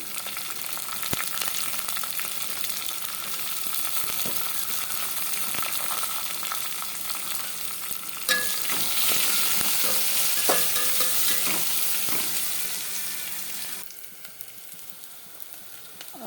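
Onions sizzling and frying in a pan with peanuts, chillies and garlic paste, a constant hiss with intermittent scraping stirs and clinks of the spoon, close up, then the sizzle drops quieter near the end.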